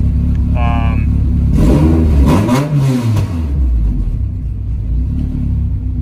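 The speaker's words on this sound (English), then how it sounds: "running pretty good. No odd noises from the engine" A car engine on its first start-up after cam installation idles steadily with a brief rev that swells and falls, close by, while a voice speaks over it partway through.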